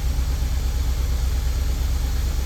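A Honda Element engine idles with a major cylinder-one misfire, a loud, steady rough rumble with a continuous uneven low-pitched pulsing throughout, no voices.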